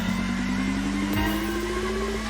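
Car engine in the Extreme Drift video game drifting, a steady synthetic engine tone climbing gradually in pitch, loud and continuous with a brief thump midway, no talking.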